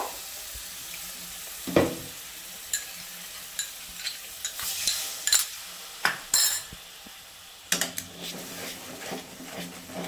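Water poured into a hot pan of Bengali yogurt prawn curry (doi chingri) sets off a burst of hissing sizzle, with scattered clinks and stirring scrapes, and the frying crackle stays steady throughout with no voices.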